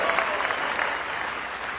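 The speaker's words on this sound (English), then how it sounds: "Give him a big round of applause." Dense, steady applause from a large town hall audience welcoming the mayor, loud and continuous throughout with no talk over it.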